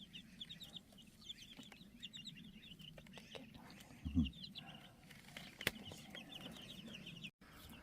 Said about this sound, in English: here we are in our temporary chicken run for the baby chicks